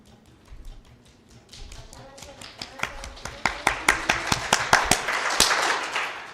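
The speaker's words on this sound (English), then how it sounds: "Ebu, let's clap for him differently. How do we clap" A meeting audience claps in a rhythmic pattern, sharp claps building from scattered taps into a loud, evenly spaced beat that speeds up and swells, with faint voices underneath.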